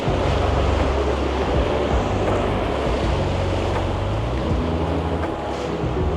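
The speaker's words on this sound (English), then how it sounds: "We're about to catch the ferry" A ferry crosses open water in Venice, giving a steady broadband wash of engine rumble, water and wind buffeting the microphone, loud and constant without speech.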